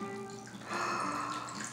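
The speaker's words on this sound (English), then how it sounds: "And then we pour." Cocktail poured from a shaker into a glass, a continuous splashing liquid stream that swells louder partway through, close and steady.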